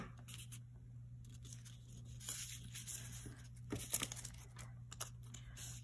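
Paper map sheet being cut apart by hand, with steady soft snipping and crinkling close by, a few sharper tears near the middle, no talking.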